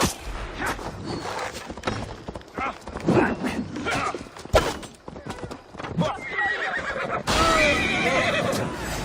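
A horse in the video game Assassin's Creed whinnies loudly amid clip-clopping hooves and thuds, with a sharp neigh near the end rising over the busy in-game soundscape.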